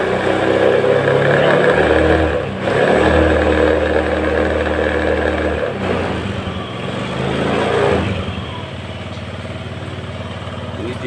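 A Honda Beat scooter with a charging fault idles and is revved, a loud steady engine drone that swells and dips a few times, with someone talking over it.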